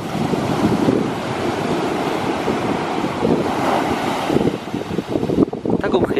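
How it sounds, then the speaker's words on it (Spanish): Cold sea waves crash onto the shore in freezing weather, a loud, churning roar of surf mixed with heavy wind buffeting the microphone, swelling and breaking again near the end. "Vino la ola, se mojó todo."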